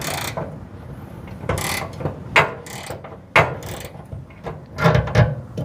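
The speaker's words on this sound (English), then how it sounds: "Got the ratcheting wrench." A ratcheting wrench works on a bolt under a 1956 Chevy, giving a series of sharp, close metallic clicks in uneven short bursts against faint background clatter.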